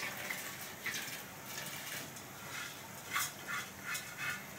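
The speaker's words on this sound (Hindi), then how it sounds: "अब हम इसमें पानी में ऐड कर देंगे।" Water poured into a pot of soaked rice for prawn dum biryani, a soft steady gushing with a few brief louder splashy surges, close by and without talk.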